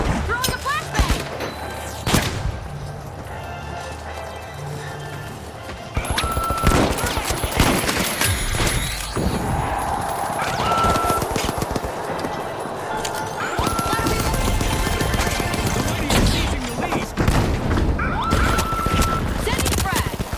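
Gunfire and grenade blasts from the video game The Finals, with rapid shot bursts, sharp crashes and explosions scattered throughout amid game effects, with a player talking over the action.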